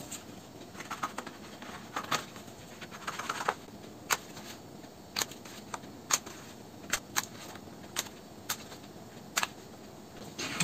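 Paper being cut with scissors for the net of an octagonal frustum model, giving a run of sharp, separate snips at an irregular pace, close and fairly quiet over a low background hiss.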